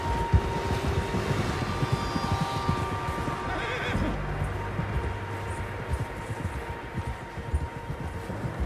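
In Red Dead Redemption 2, a horse whinnies loudly once over a busy background of shuffling and rumbling noise, followed by lower snorting sounds.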